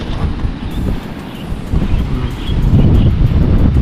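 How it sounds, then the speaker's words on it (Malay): Strong gusting wind buffets the microphone at a seaside spot in Rompin, a loud low rumbling roar that swells toward the end, with no voices. "Dah keadaan dia angin kuat"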